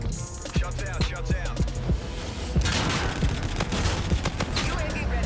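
Steady automatic gunfire from the Volk rifle in Call of Duty: Infinite Warfare, rapid close shots in even bursts over battle noise, with game voices speaking underneath.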